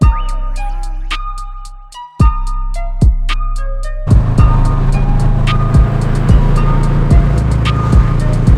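A catless Subaru BRZ/FRS with an Invidia N1 exhaust, Invidia front pipe and Tomei unequal-length headers idles, then blips its engine in a series of sharp, evenly spaced revs. The revs sound loud and close, with the engine rumbling continuously between them.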